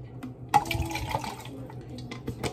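Water pours in a short splashing stream starting abruptly, filling an acrylic cup with a burbling, liquid sound for about two seconds, fairly close and moderately loud.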